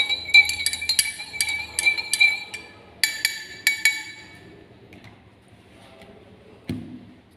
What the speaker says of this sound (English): Continue stirring the solution until the crystals are completely dissolved.